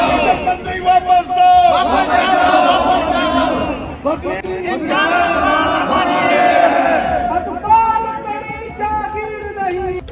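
A dense crowd of pilgrims and local villagers and palanquin bearers on the Char Dham pilgrimage: loud, close babble of many voices with shouts and calls rising and falling throughout.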